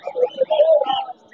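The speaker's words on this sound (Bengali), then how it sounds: "আর এই ঘুঘু?" Doves at a busy Mirpur 1 bird market give a short, close, soft cooing call in a few quick phrases, then fall quiet.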